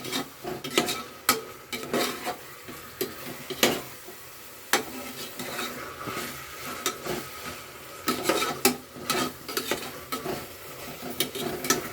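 Mutton biryani masala sautéing in a pot, with frequent sharp clinks and scrapes of a ladle against the metal over a constant low sizzle, close and uneven in rhythm, with no voices.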